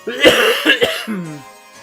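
A few harsh coughs in a quick cluster, close and fairly loud, trailing off into a short throat-clearing rasp.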